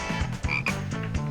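A frog in a French cartoon croaks in a continuous, buzzy run of rhythmic croaks lasting about a second, loud and close with no talk.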